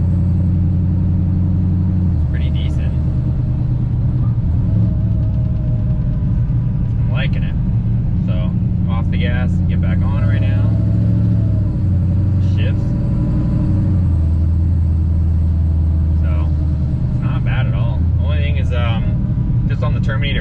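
A supercharged 426 HEMI V8 in a Dodge Dakota pickup idles with a steady low rumble and rises gently under light throttle, with speech over the engine throughout.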